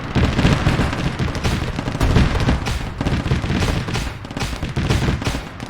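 Dense, continuous anti-aircraft gunfire in a military video game, a loud rattling barrage of rapid shots and booming impacts that never lets up for the whole stretch.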